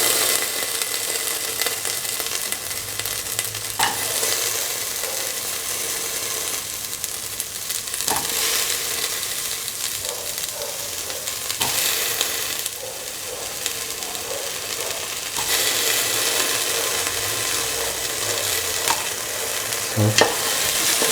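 Okra pieces sizzle and fry in a pan for a stew of okra, carrot and coconut milk, with steady stirring scrapes and clatters running throughout, close and continuous, no voices.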